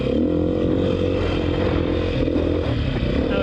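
A 2019 Beta 500 RR-S dual sport motorcycle engine runs steadily and loudly up close, a constant throaty drone with a light mechanical clatter and no change in pace.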